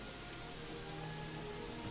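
Rain falling in the video game Gothic 3, a steady, even hiss of downpour at low level, continuous and alone without talk.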